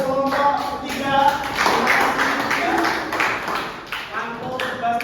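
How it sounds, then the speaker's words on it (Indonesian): A classroom group claps for group 3 after a presentation, a short ragged round of hand clapping mixed with voices talking over it throughout. "kita beri tepuk tangan untuk kelompok 3"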